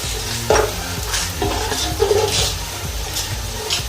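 Cumin seeds sizzle in hot oil along with whole red chillies, a steady broadband frying hiss with occasional spoon scrapes and stirring clatter close by.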